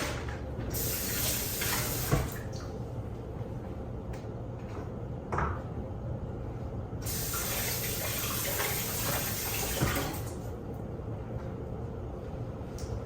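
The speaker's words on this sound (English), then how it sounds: "Then I'm gonna rinse these bags and use them for the cherries." Plastic bags are rinsed under a running kitchen tap, with a steady broad rush of water and occasional rustles and bumps, close and continuous, with no talking.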